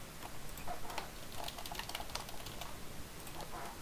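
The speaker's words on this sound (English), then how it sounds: "I'm just typing this up." Typing on a computer keyboard, a quick irregular run of light key clicks, close and fairly faint, with no talk.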